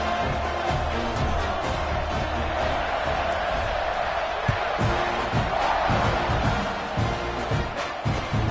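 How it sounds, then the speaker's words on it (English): Football stadium crowd in a video game, a continuous dense murmur of fans buzzing at moderate level with a few faint thumps and no voice on top. "this crowd is buzzing after that last score"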